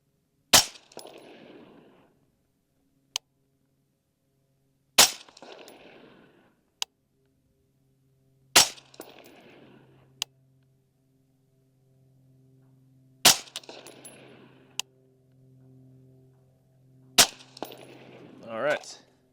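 Five loud, sharp rifle shots from an LWRC M6A3 DMR firing Hornady 75 grain .223 ammunition, spaced a few seconds apart, each with a short decaying echo and a faint metallic tick between shots.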